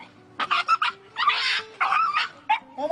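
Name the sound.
dog barking and whimpering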